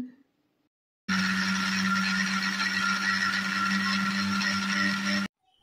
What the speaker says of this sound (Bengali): আর নারকেল কুচিগুলোকে আমি এখন মিক্সারের মধ্যে পিষে নিচ্ছি।